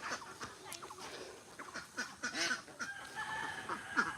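Ducks on a farm yard quacking and honking in overlapping bursts, several birds calling irregularly at moderate distance with some chicken-like clucks mixed in.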